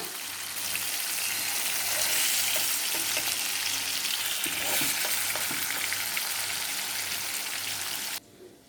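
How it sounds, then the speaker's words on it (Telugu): Masala fish pieces fry in hot oil with a dense, crackling sizzle that stays loud and steady. A few faint taps come through before the sound cuts off abruptly near the end, and no one talks. "మాడకుండా తీసుకోండి చూసారా మంచి కలర్లో వేగిందనమాట"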